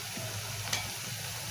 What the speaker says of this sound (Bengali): এটারে এখন আমি ভালো মতন নাড়াচাড়া করব।